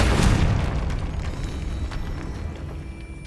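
A Bombarda spell detonates in Hogwarts Legacy, a single loud booming explosion at the start that rumbles and decays over the following seconds with faint debris crackles.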